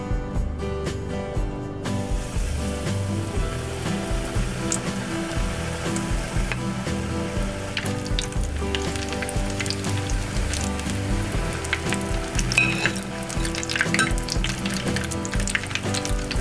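Spoonfuls of apple fritter batter fry in hot oil, making a continuous close crackling sizzle like rain on a surface that runs at even strength for the whole stretch, with no one talking.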